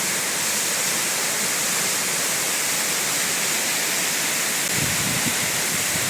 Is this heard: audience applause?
no